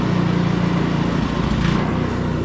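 Small carbureted engine sputtering and running rough as its fuel is shut off and starved, a loud, close, uneven chugging that wavers throughout.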